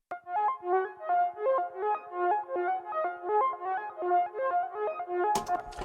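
A synthesizer pad layered in two octaves, the lower and higher layers panned differently, gives a soft, breathy, flute-like tone. Notes move in a gentle stepwise melody with swelling attacks, and a short burst of noise comes near the end.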